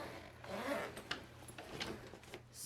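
The zipper of a Swiss Gear Winger TSA-approved laptop bag is pulled open in a soft, close, quiet rasping run lasting a couple of seconds.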